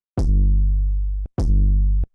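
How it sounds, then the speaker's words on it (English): Two long electronic kick drums from an Ableton RnB/trap session, each a sharp click-topped thump with a deep boom that sustains for about a second before cutting off, played alone and loud with a short gap between hits. "This is a long kick."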